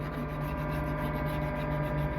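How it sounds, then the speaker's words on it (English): An old sharpening stone rubs along the back of a ground blade to take off the burr, giving a faint, continuous scraping hiss over a low steady hum. "Get a little bit of old sharpening stone and just take the burr off at the back."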